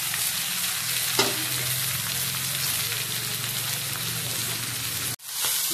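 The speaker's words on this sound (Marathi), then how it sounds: "आणि त्याच्यावर आपण भाजी टाकणार आहे. ती परतून घ्यायची छान या तेलावरती." Taro leaves sauté in hot oil seasoned with asafoetida, giving a loud, steady sizzle with a stir near the start and a brief break just before the end.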